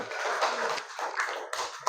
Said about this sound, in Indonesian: Oke, tepuk tangan untuk Nabil.